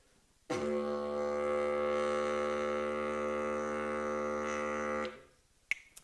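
A didgeridoo drone made by buzzing lips against the mouthpiece: one long, steady, low buzzing note with rich overtones, sustained for about four and a half seconds before stopping abruptly, played close and alone.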